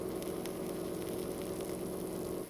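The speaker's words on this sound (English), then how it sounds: "And you can hear that sizzling." A panini sizzling on a grill, a soft, steady crackle with occasional light pops over a low hum, fairly quiet and continuous with no talking.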